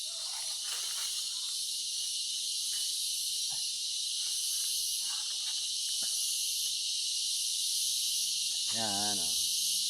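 Crickets chirp in a constant high, shrill drone throughout at a coconut copra-making site, with faint voices and a brief sound near the end beneath it.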